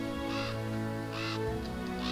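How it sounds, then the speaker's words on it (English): A crow-like bird call in a Pathfinder: Kingmaker game scene, heard as a few hoarse caws against a steady droning background. "Maybe some kind of bird."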